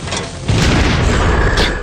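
A loud explosion in the hack-and-slash video game Enclave booms and then rumbles on for over a second, with a sharp crackle near the end.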